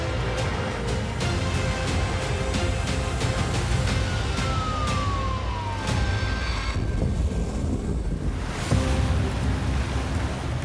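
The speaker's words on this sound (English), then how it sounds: "You've got a couple of different swells here, so the sea's a little bit confused." Rough, confused sea with crossing swells in Sydney Harbour, heard from a boat as a continuous loud rush of churning water and wind, with clicks and a brief tone drifting through. No one speaks.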